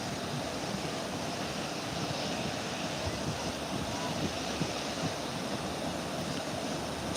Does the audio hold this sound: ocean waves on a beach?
yes